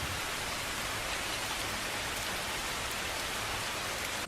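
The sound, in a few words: rain falling during a storm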